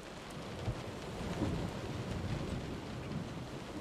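Steady rain pours down with low rolling thunder in the video game Close to the Sun, aboard a ship, a dense continuous wash at moderate volume with no voices.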